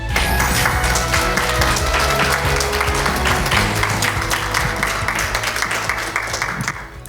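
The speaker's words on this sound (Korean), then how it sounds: "여러분들 그 뜨거운 박수로 성미연 박사님을 환영해 주시기 바랍니다." An audience at an academic colloquium lecture claps to welcome the lecturer: a dense, steady round of applause from a sizeable crowd that holds for several seconds and tapers slightly at the end.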